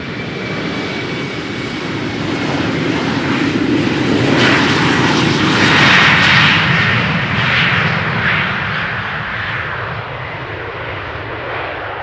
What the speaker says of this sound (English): This is KLM flight 1017 outbound London Heathrow, Embraer 190, 13 years old, first flight January 2010.